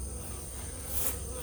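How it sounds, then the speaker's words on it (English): A big honeybee swarm hanging on a lure outdoors in July, giving a dense, continuous buzzing hum close to the microphone that swells slightly toward the end, with no speech. "I have a big swarm hanging right here"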